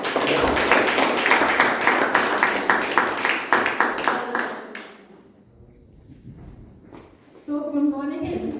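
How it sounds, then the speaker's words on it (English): A dense burst of applause from a crowd at a Toastmasters club meeting, clapping steadily for several seconds before fading out, followed by quieter room noise and a voice. "please stand up and give her a standing ovation or clap"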